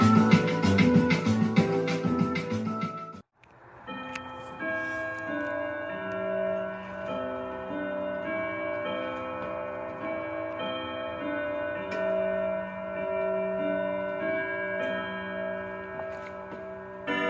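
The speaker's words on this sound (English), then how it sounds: "My grandfather clock is the heartbeat of time." A grandfather clock ticks steadily in a quiet room, its regular tick-tock carrying on alone after a brief burst of louder ringing tones at the start.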